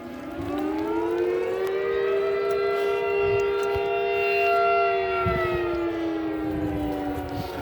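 Noontime fire siren sounding from a distance, one long sustained wail that holds a steady pitch, swells slightly in the middle and then slowly falls away at the end, with no voices.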